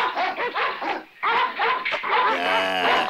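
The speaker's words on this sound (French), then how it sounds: "Mais pourquoi ils aboient tout le temps?" Several cartoon dogs bark and yip in quick bursts, loud and close, with a short pause mid-clip and a brief whimpering whine near the end.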